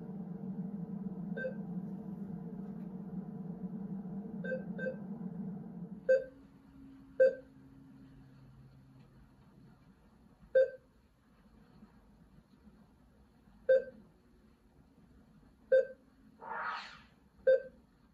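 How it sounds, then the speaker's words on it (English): Computer reward beeps from an EEG neurofeedback game sound as short, clean electronic tones, each a separate bleep heard repeatedly at irregular intervals, at first over a low hum that then drops away, with a brief burst of higher tone near the end. "the beeps that you heard during the game"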